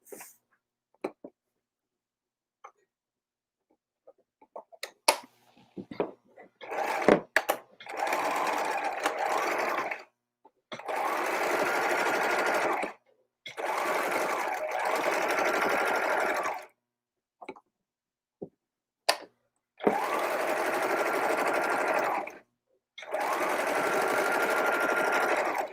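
A sewing machine stitching around a piece during a live sewing class, running in several steady bursts of a few seconds each, separated by short pauses and small clicks, close and clear.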